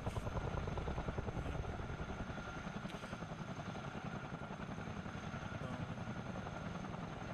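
Chinook helicopter landing on a runway in Microsoft Flight Simulator 2020: a steady, loud rotor thump with a constant rumbling drone runs continuously throughout, with no speech.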